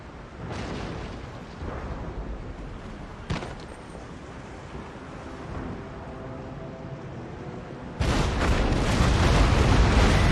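Broadside cannon fire from sailing warships in Empire: Total War, engaging a third-rate ship of the line: repeated low booms and rumbling blasts, with a sharp report near the start and a heavy, dense barrage building toward the end.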